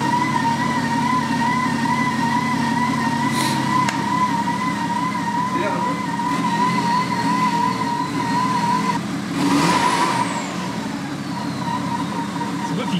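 A car with a replacement engine runs steadily after being shifted from park into drive, a continuous engine drone topped by a sustained, wavering whine and squeal, with a brief louder surge partway through.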